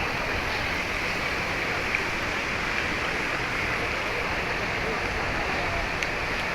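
Misting fans mounted overhead at the Makkah Haram spray fine water, producing a steady broadband hiss that stays even and continuous, close and fairly loud, with no distinct events.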